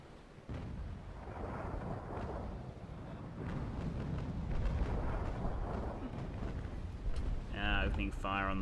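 Booming cannon fire from sailing warships in the Naval Action naval combat game rumbles in heavy, rolling volleys over ambient battle noise, with a sharp whistling effect near the end.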